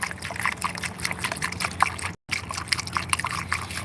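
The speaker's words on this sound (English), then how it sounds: "I'm trying to put water in this damn car." Water is poured into the radiator of an overheating car, giving a close, steady gurgling and trickling that breaks off briefly midway before carrying on.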